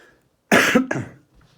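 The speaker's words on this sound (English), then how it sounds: "that's a smoker's cough" A smoker's single harsh, raspy cough, loud and close, breaking into two rough bursts and then trailing off into quiet.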